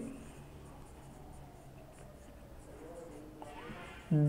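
A hand writes out a math solution, pen scratching in soft, steady strokes close by, faint and continuous, ending with a sudden louder thump.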